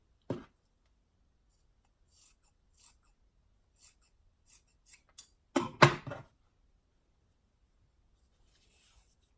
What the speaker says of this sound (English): I'm going to trim this seam allowance down just a bit too